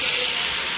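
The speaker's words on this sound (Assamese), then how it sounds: "আলুখিনি তেল ভাজিটো বহাই দিওঁ" Potatoes sizzling in hot oil in a home kitchen, a steady bright hiss of frying heard close up and alone for under a second.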